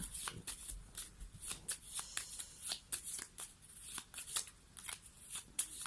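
A deck of cards is shuffled for a tarot-style love reading, a close series of crisp riffling and flicking bursts in an uneven rhythm, with no talk over it.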